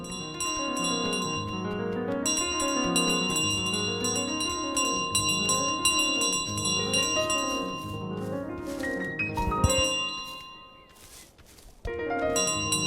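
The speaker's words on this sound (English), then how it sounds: "Once I get this bell back home." Bells ringing in Untitled Goose Game, a dense cascade of bright metallic chimes and overlapping tones that plays loudly and continuously, briefly drops away near the end, then resumes.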